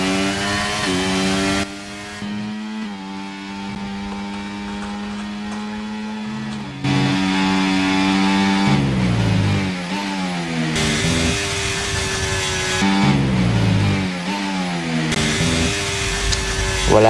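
A motorized shopping-cart racer runs at a caddie rally in Welkenraedt. Its small engine revs loudly and continuously, the pitch surging and falling as the throttle pulses.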